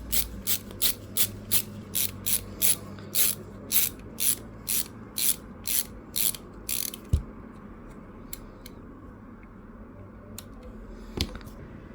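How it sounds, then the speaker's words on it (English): A ratcheting screwdriver drives bolts on a 3D printer tool-head, giving a rapid series of crisp clicking bursts in a steady rhythm up close, then stopping, followed by a few isolated clicks and taps. "And I grab an actual ratcheting screwdriver."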